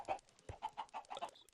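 Minecraft chickens cluck in a quick, uneven series of short, soft calls, fairly faint and without talking.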